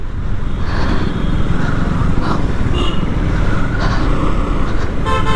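Vehicle horns toot over busy road traffic on the drive from Pichavaram to Pondicherry. Short honks rise above a constant engine and road rumble, close and fairly loud.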